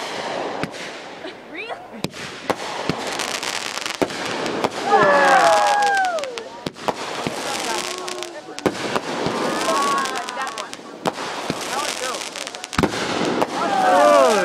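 Fireworks at a 4th of July show in 2011: repeated booms, crackles and whistling shells bursting one after another for the whole stretch, with people talking and exclaiming throughout.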